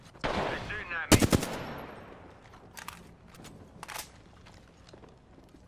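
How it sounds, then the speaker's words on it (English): Gunfire in the Apex Legends video game, a fast burst of automatic shots followed by scattered single cracks and rustling movement, fairly loud and close, with no talk over it. "They're shooting at me."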